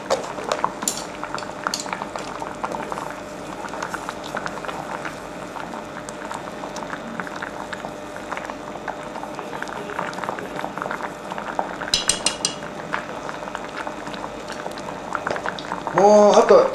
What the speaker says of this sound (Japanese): かぼちゃが崩れないように煮込まないといけないです